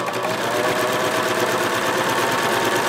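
A serger fitted with a pintuck foot sews a stuffed pintuck in fabric, humming in a steady, fast, loud mechanical rattle that fills the whole stretch without pause.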